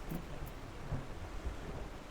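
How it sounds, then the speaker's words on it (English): Thunderstorm ambience in the video game Final Fantasy XIV, with a steady wash of rain and low, rolling rumbles of thunder nearby, no voices. "Storming."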